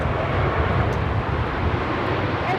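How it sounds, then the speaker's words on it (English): Cathay Pacific Boeing 777-300ER jet taking off from Los Angeles LAX for Hong Kong, a broad, sustained engine roar heard from a distance at a steady level. "Cathay Pacific Flight 885 taking off to Hong Kong on the 777-300ER"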